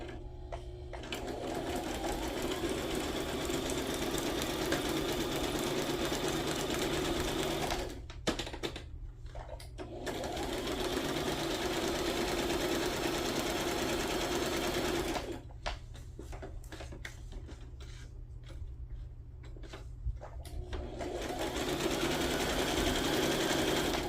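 Sewing machine stitching around the edge of a paper journal page, a steady continuous mechanical whir that runs in long bursts, stopping briefly twice, close and fairly loud.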